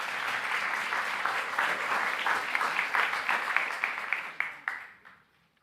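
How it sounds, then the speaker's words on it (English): Audience applause at a conference session on procurement, a dense even wash of clapping from a crowd that holds steady, then thins to a few scattered claps and fades out. "Please, let's welcome all of them with a round of applause."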